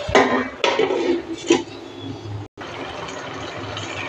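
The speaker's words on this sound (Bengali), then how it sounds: "এবার একটু ঢাকা দিয়ে দেবো" A lid set onto a cooking pan holding lau, palong shak and fish-head curry, a few clattering metallic knocks and scrapes up close, then a steady low hum.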